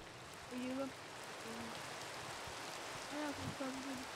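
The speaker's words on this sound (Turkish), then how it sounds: "Yağmur yağıyor." Steady rain falling in the video game Minecraft, with a continuous soft hiss of rainfall and a few faint tonal game sounds over it.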